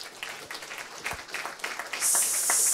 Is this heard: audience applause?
yes